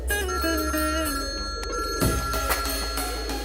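A telephone ringtone plays continuously, a tonal electronic ring with a brief pause partway through, clear and fairly close.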